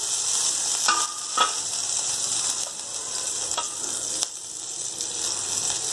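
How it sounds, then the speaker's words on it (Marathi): Garlic and chili hit hot oil with mustard seeds and cumin in a pan for cucumber curry, a constant bright sizzle broken by a few sharp pops and spatters, close and with no talk. "आता लसूण आणि मिरची टाकून घेत आहे"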